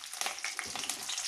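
Curry leaves hit hot oil in a pan of frying prawns, giving a close, bright, crackling sizzle with small popping bursts that runs steadily throughout.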